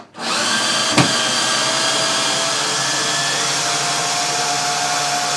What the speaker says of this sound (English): Or you can use an electric screwdriver just to take the screws out.